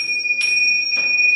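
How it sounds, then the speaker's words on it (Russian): Small bells struck by hand, two bright ringing strikes close up with long sustained tones sounding on between them, no voice present. "Если я эти колокольчики сейчас задеваю,"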